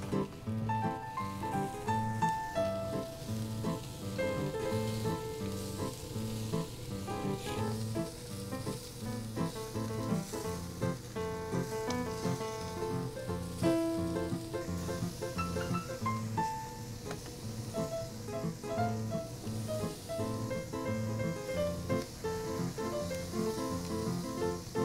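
Iranian lemon saffron chicken wings sizzle steadily on a grill, a continuous crackling hiss that runs unbroken at moderate loudness beneath quiet background music.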